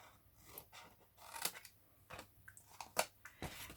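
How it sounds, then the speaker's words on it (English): Scissors snip through card while a stamped gift box is cut and trimmed: a string of quiet, crisp, irregular cuts close by, with no voices. "So snip out those little wedges and trim down."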